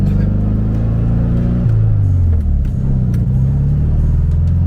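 A 1972 VW Beetle engine drones steadily while driving, a loud low rumble with a shift in pitch partway through as it changes speed, continuous and close.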